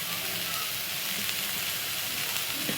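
Rice frying in a pot for meal maker pulao, a steady close hiss and sizzle throughout with faint stirring scrapes.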